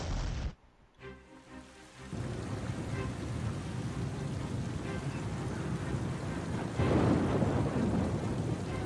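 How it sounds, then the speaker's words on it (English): Thunderstorm on a dark night in the video game Oceanhorn 2, a deep rumbling roll of thunder over steady heavy rain, with a swell of louder downpour near the end, no talking. "It began on a dark and stormy night"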